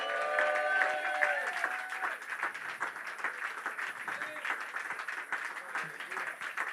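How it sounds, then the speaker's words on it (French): A church congregation applauds during a French-language service, with continuous, fairly even clapping over the whole stretch and a voice briefly audible at the start, heard at a moderate distance. "est-ce que tu peux donner une bonne main d'acclamation à Dieu?"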